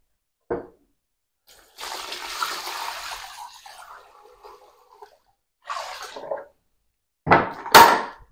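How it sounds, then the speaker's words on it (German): Water poured from a container onto a lime paint mix made with quark, heard as a few short splashy pours with gaps between them, close and fairly loud, ending in a sharper burst of liquid sloshing. "Und jetzt kommt nur ein wenig Wasser drauf."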